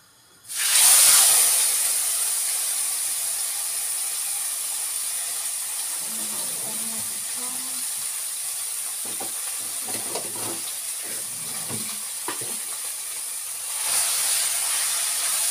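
Salmon fillet laid skin side down on a hot griddle, giving a loud, steady frying hiss that starts abruptly and holds throughout, with faint voices and soft clinks underneath and a brief swell near the end.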